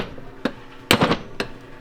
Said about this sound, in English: I'm just using a basically a pry bar, a punch on one end. I got a BFH right here. I'll give this thing a couple good whacks.